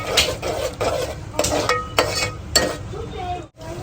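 A spoon scrapes and clinks through thick spiced gravy in a pan in several distinct rhythmic strokes, close and moderately loud over a soft sizzle, ending in a short pause.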